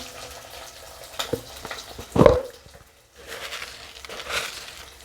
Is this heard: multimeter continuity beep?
no